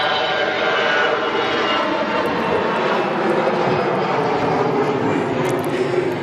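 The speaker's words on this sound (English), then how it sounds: "EasyJet departing Manchester here." An EasyJet airliner departs Manchester Airport, its engine roar a steady, broad rumble that fills the scene without a break, heard from a distance outdoors.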